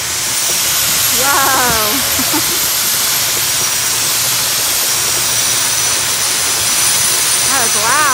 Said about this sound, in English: You see the geyser?